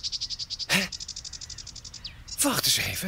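A blue nightingale chirps in a Bob the Builder cartoon, a fast, regular run of bright, high-pitched tweets that repeats steadily and is cut into twice by someone speaking.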